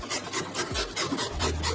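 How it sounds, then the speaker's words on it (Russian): Pumpkin and apple are rubbed against a fine carrot grater in quick, regular rasping strokes, close and fairly quiet, about eight scrapes in a short burst with no talk. "на мелкой морковной терке натираю тыкву и яблоко"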